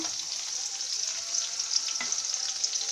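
Coconut and onion sauté in a pan for chutney, a continuous close, even sizzle with faint stirring scrapes and one soft knock partway through.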